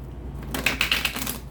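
Tarot cards riffle-shuffled in one short close burst of rapid papery flutters and taps that settles quickly.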